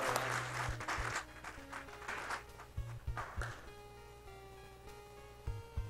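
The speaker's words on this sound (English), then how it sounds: "let's give him one more round of applause" A live speedrunning marathon audience at AGDQ 2015 claps after a Power Blade run, a burst of applause that is loudest at first, then thins out and fades over a few seconds.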